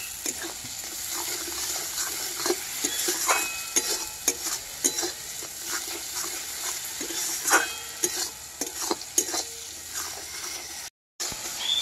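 Spice masala for ghugni sizzling and frying in a pan, with intermittent stirring scrapes and clinks over a low steady hiss, close and moderately quiet.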